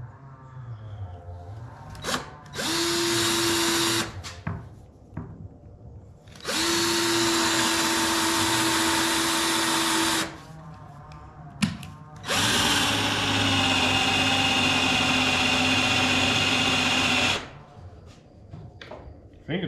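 A hand drill bores holes for a chainsaw mill built around an MS462 powerhead, running in three sustained bursts of a few seconds each with short pauses between. Speech is heard in the gaps.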